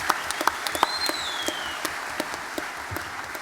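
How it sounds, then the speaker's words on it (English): Audience applause at the FMG Young Farmer of the Year 2023 grand final, a steady wash of clapping with sharper individual claps standing out, sustained and moderately near throughout. "A round of applause for Nick O'Connor."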